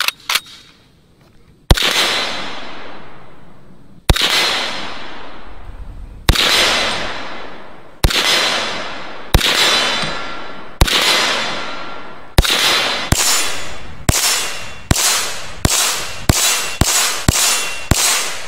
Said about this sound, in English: let's do a full mag group at 60 yards on that blue steel down there